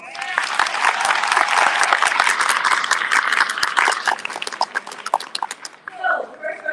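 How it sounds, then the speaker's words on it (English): A high school graduation crowd bursts into loud, dense applause with individual sharp claps standing out, holding strong for several seconds before thinning into scattered claps near the end. "Let's give them a round of applause"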